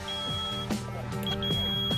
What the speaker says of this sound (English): And they beep like that.